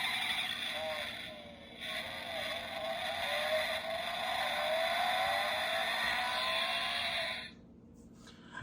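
A 1:55 scale diecast Setra S516HDH toy bus plays a synthetic race-car engine effect through its small speaker, a thin whining tone that sweeps upward and sustains before cutting off abruptly.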